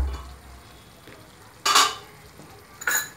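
Chicken fry in a pan, mostly a quiet low sizzle broken by two loud, short bursts of scraping and clatter from a spatula or lid, close by, with no talking.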